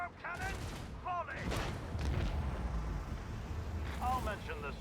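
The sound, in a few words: macro cannon volley in a space battle video game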